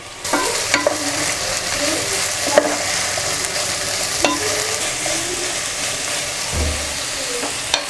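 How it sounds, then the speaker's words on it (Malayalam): Carrots and chopped celery stir-fried in a pan for an Indo-Chinese chop suey, a steady sizzle with repeated scraping clacks of a spatula stirring the vegetables, close and continuous, no talking. "ചോപ്പ് ചെയ്ത് വെച്ചിട്ടുള്ള സെലറിയും ആഡ് ചെയ്ത് കൊടുക്കുക."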